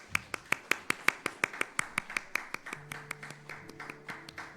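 A church congregation in a Sunday afternoon service claps in a steady, even rhythm, with about twenty sharp, evenly spaced claps, while faint background music comes in partway through.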